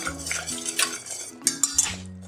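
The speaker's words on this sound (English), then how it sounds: "We're gonna whisk this real quick before it burns." Italian seasoning whisked quickly in a hot pan, with rapid metallic clinks and scraping of the whisk against the pan, close and busy over a faint hum.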